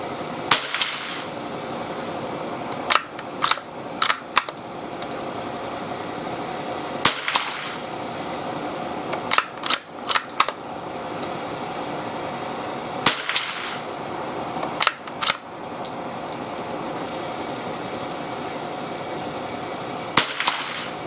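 Savage MK II rifle fired at an outdoor range, several sharp cracks spaced a few seconds apart with some quick doubles, each shot loud and close with a short ringing tail.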